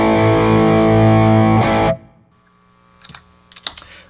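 An electric guitar chord played through stacked overdrive pedals rings out thick and distorted for a couple of seconds, then stops, followed by a few soft clicks.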